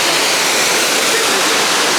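Courtallam waterfall roars as a continuous, dense rush of falling water, loud and close, with no breaks or voices over it.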